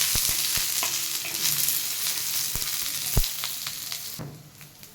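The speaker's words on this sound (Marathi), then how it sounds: "थोडंसं तेल मी कांदा थोडंसं भाजतो" Onion frying in a little oil in a pan for a spicy village-style shipi amti curry, a continuous close sizzle with intermittent sharp stirring knocks and scrapes, fading slightly at the end, no voices.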